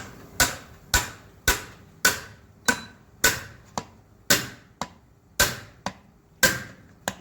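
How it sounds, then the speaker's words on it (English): Hammer blows driving a bearing into a Bitzer screw compressor during assembly: about a dozen sharp metallic knocks at a steady, roughly half-second rhythm, close and clear with no talking. "and push it with hammer."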